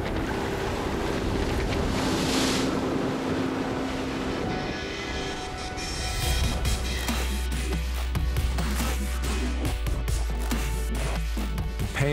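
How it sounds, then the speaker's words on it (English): Strong wind gusts rush steadily over open sea off the volcanic islands of Cape Verde during a kitesurfing ride, mixed with waves and water spray and a loud roar of wind noise against the microphone. "There's a puff, then a gust."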